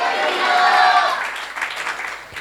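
A church congregation applauds during a sermon, a loud, sustained wash of clapping from a crowd that thins out after about a second, with voices mixed in.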